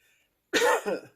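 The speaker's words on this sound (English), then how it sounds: "the more I try not to cough, the more I cough." A single harsh cough, close and sudden after a moment of quiet, with a rough two-part burst.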